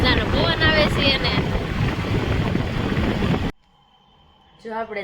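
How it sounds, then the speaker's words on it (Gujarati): Loud, rumbling wind buffets the microphone while riding across a newly built bridge, holding steady for about three and a half seconds before cutting out abruptly; a brief voice follows near the end. "મસ્ત મજાનો પવન આવે છે"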